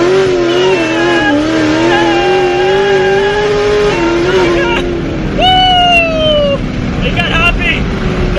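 A cammed Z06 Corvette makes a full-throttle pull, its engine note rising and wavering as the wheels hop. Then the revs drop and a quick rev climbs again. Loud and close, with a voice briefly over it.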